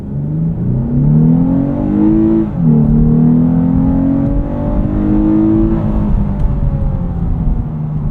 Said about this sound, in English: Let's knock off a little acceleration test here.